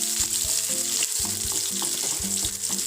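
Small shallots fry in hot oil in a pan for a brinjal thoran, a steady close sizzle broken by repeated scraping stirs, with no talking.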